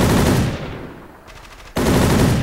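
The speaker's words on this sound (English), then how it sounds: "I hear gunfire on the other side" Rapid bursts of automatic gunfire, loud and continuous, drop away briefly to a distant rattle, then resume at full force, in the video game Soldier of Fortune: Payback.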